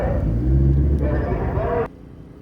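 Race car engine with a turbo at a first racing event: a loud, low rumbling drone with a rising whine that holds steady, then drops sharply to a quieter idle near the end.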